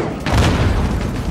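A grenade explodes in the Call of Duty Modern Warfare (2019) campaign, one loud low boom that swells just after the start and rumbles out over a second.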